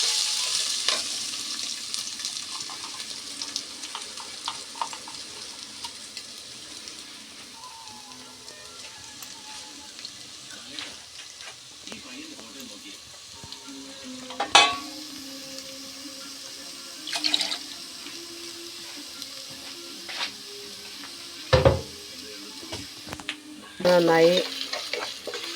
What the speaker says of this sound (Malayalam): എന്നിട്ട് നല്ലവണ്ണം വഴറ്റി കൊടുക്കാം.